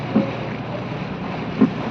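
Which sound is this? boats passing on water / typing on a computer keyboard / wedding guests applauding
boats passing on water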